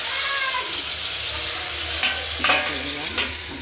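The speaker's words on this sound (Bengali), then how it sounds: "গরম আছে নিরামিষ তরকারিটা নেড়ে করে দিচ্ছি।" A hot pan of mixed vegetable curry is stirred, a soft continuous sizzle with scraping of the spoon and a few louder clinks near the end, close by.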